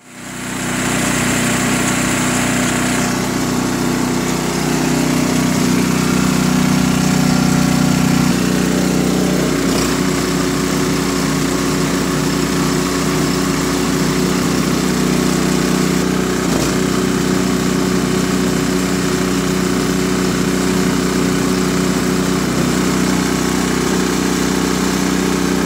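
A small engine with a rejetted Nikki carburetor, drilled out on the low idle circuit, runs steadily and loudly; its pitch shifts partway through, then it settles into an even, smooth drone.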